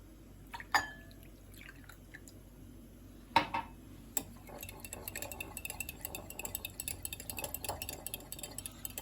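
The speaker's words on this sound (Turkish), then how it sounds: "yumurtamızın içerisine sütümüzü ilave ediyoruz." Milk poured into eggs in a bowl for a stale-bread pizza, heard as faint close trickling with a couple of clinks, then a run of soft, rapid liquid splashes and stirring taps.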